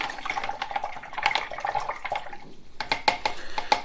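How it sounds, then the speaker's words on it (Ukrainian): Aminostim fertilizer solution being stirred in water, with light sloshing and small splashes and clinks in an uneven rhythm, close and fairly quiet. "Отже, тепер ретельно перемішуємо."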